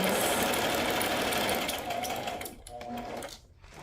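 A sewing machine with 17 stitch settings runs steadily and loudly on its own, a continuous mechanical whir that eases and slows slightly near the end.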